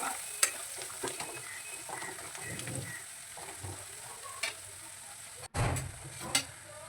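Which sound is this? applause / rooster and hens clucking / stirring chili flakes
stirring chili flakes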